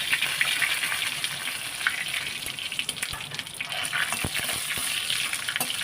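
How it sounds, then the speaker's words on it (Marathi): Mustard seeds, cumin, red chilli and curry leaves sizzle and crackle in hot oil for a tomato saar, a continuous close frying hiss with sharp scattered pops and spits. "व्यवस्थित फोडणी करून घ्यायचे"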